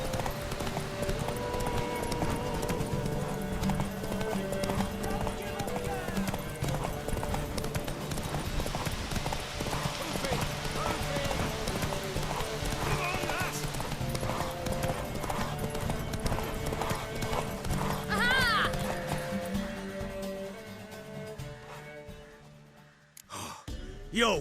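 A horse gallops in The Witcher 3: Wild Hunt, its rapid hoofbeats drumming steadily and close for most of the stretch under game music and effects, then slowing and fading out toward the end.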